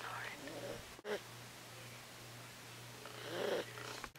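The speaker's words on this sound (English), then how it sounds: "Proxy snoring." Proxy, a pet, snoring softly indoors in two short rasping bursts near the start and end, with a steady low hum underneath.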